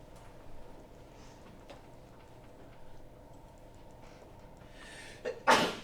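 A sneeze in a civil engineering lecture hall, heard once, short and sharp, near the end of a quiet stretch with faint ticking and room noise.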